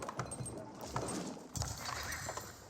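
Horses of horsemen in the Age of Empires video game, with quick clip-clop hoof beats and short whinnies in an uneven rhythm, fairly close and clear, with a faint voice underneath.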